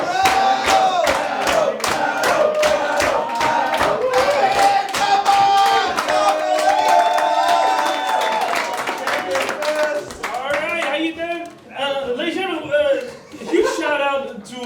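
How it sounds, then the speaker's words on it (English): A roast battle crowd in Berlin chants together in rhythmic unison with claps, loud and sustained, then breaks into cheering and a host's voice over the noise. "We're going to start the chant with the way we start every roast battle, and the chant goes like this. Battle! Battle! Battle!"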